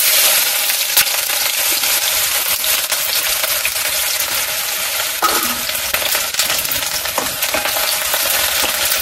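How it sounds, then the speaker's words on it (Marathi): Chopped onion hits hot oil in a steel pot for a Malvani crab curry, producing a loud, steady close sizzle with a few clinks of stirring and no speech. "तर मी आता टाकतोय कांदो फोडणे"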